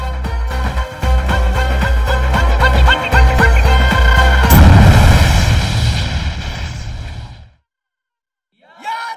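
A battle explosion in a Hindi war film: a long, loud roaring blast with rumbling low end that swells for several seconds, then cuts to silence before a faint sound returns.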